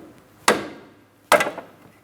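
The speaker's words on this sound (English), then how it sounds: "Now I'm going to tap on the other end of the pry bar to break this free." Two sharp metallic taps on the end of a pry bar, used to free a steering rack bellows clamp on a 2003–2007 Cadillac CTS. Each strike is close and loud, the second followed by brief rattling.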